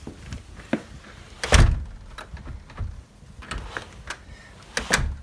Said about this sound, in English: Let's shut the door and give it a try.